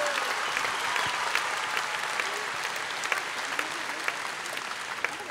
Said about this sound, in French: Allez, on l'applaudit très, très fort.